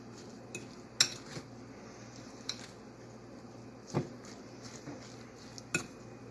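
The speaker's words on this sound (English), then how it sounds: "Just stir it up real good." Coleslaw stirred in a bowl with a utensil, with sparse sharp clinks and scrapes against the dish at irregular intervals, close and fairly quiet.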